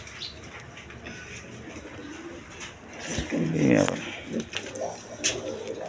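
A pair of red Gorra pigeons cooing in low throaty rolls, louder toward the middle, with a voice speaking over them and some background clatter.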